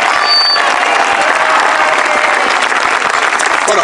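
A crowd at a gathering outside Lledoners gives loud, dense, sustained applause for the President of the Parliament of Catalonia, unbroken from start to finish with no talking.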